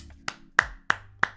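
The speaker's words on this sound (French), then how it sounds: "faites comme moi s'il vous plaît, applaudissements" A single person claps four sharp hand claps in an even, quick rhythm, close and clear, with no voices.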